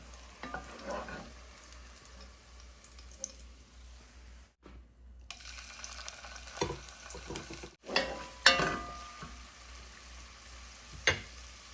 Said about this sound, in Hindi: उतनी देर में मैं अदरक लहसुन का पेस्ट ऐड कर दूँगी ऑयल में